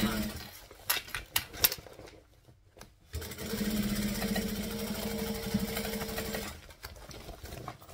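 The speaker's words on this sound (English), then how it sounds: "just bring it around and stitch it down" A sewing machine stitches two fabric layers together along a bag seam, starting with a few sharp clunks and then running in a steady, loud whirring hum for several seconds before stopping.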